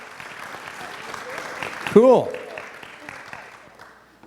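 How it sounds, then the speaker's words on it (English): Audience applause at a speaker panel event, a steady patter of clapping that rises briefly before fading, with a voice speaking over it. "You can clap."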